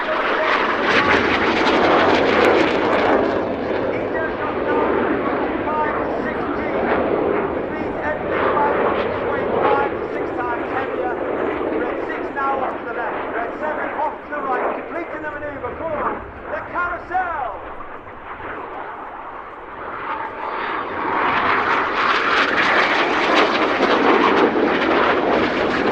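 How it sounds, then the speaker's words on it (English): Red Arrows jet display team aircraft performing air display manoeuvres at RIAT 2024, a loud continuous roaring jet noise that swells and fades as the planes pass, with an announcer's voice heard over the roar. "Each aircraft will conduct a 360-degree air-roll roll before turning hard away from each other."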